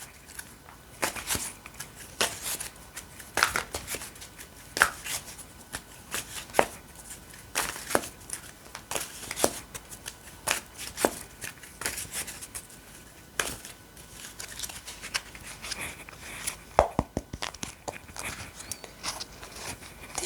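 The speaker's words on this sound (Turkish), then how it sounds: "Peki gelelim Osho'dan tavsiye kartlarımızı çekelim" Deck of Osho advice cards being shuffled by hand at close range, a long run of dry papery riffles and slaps in an irregular rhythm over a quiet room, with no voice.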